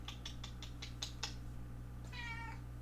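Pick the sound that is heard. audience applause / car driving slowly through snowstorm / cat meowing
cat meowing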